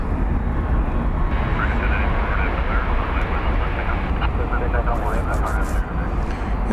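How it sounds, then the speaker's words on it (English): American Airlines Airbus A319 pulling out at DFW at night, a steady loud engine rumble filling the scene, with a voice talking over it. "As we look at American Flight 1084 pulling out to go to McAllen, Texas, in Airbus A319."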